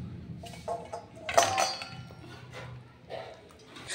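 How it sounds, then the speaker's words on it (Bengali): A spoon scrapes and knocks against a wok as cooked chicken kosha is tipped out, a few irregular metallic clanks and soft scraping sounds, close and moderately loud. "হয়ে গেছে, এবার আমি ঢেলে নিচ্ছি।"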